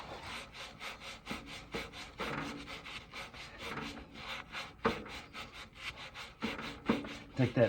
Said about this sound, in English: You can take just a rough Scotch-Brite pad and wrap around it.